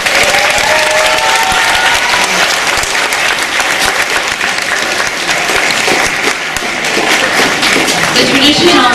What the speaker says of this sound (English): how about one more round of applause for the Alumni Band?